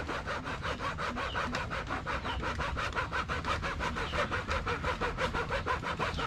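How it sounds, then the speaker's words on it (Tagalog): A hand hacksaw cuts through metal for a homemade charcoal stove, with steady rhythmic back-and-forth rasping strokes, close and continuous. "Try natin kung kaya ng lagaring bakal."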